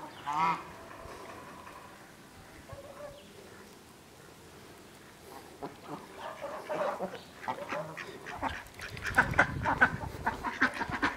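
Domestic ducks quack and honk outdoors in a farmyard next to a water tub, with calls scattered through the clip that build into a louder, busier cluster of nearby quacks toward the end.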